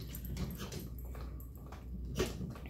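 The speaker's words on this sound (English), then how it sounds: "Once one chews, it seems they all have to find a bone to chew." A dog gnaws on a bone nearby, producing soft irregular crunching and scraping with a faint whimpery sound over a low room hum.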